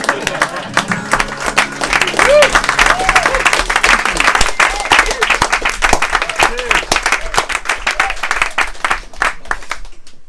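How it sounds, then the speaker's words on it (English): An audience at a small club gig claps and applauds in a dense, loud, sustained patter, with voices and cheers rising through it and the clapping thinning out toward the end. "Listening and clapping like this."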